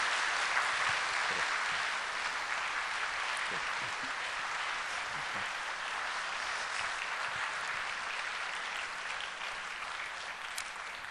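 A church congregation applauding at a Sunday service, broad steady clapping that fills the room for about eleven seconds with no pause, a few voices faint beneath it.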